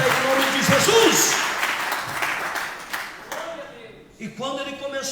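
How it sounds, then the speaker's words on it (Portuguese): Church congregation clapping during a worship service, a dense burst of applause at the start mixed with a preacher's voice, thinning out and returning with speech near the end. "pode bater palmas para Deus"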